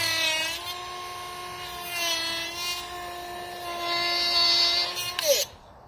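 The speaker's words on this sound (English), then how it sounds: "I'll probably get that bit with the saw actually." A power saw cuts into a motorcycle rear brake part from a TNT 125, a steady high whining tone with strong harmonics, held close and loud before winding down and stopping.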